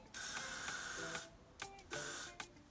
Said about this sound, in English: So what I do to spray my hair is just I grab the top section here